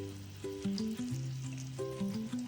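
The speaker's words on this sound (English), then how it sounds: "You can hear that honey cooking in the pan." Honey sizzles steadily in a hot pan while being cooked into a caramel glaze for a holiday stuffing, with a soft frying hiss under prominent stepped tonal notes that sound like background music.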